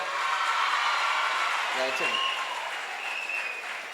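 An auditorium audience at an engineering college motivational speech claps in sustained, even applause that fades slightly toward the end, with a voice briefly heard over it.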